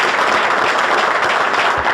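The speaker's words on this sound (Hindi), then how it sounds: "एक बार सर के लिए अगेन फिर से दोबारा ताली बजा दीजिए" Steady applause from a crowd, a dense continuous patter of many hands clapping that holds evenly for the whole moment.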